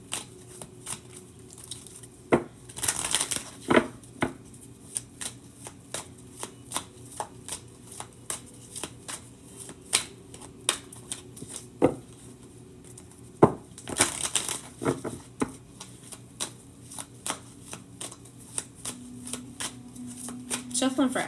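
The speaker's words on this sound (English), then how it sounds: "Shuffling for Ashley." Tarot-style cards are shuffled for a reading, giving repeated crisp riffling bursts and soft flicks throughout, while a person talks over them.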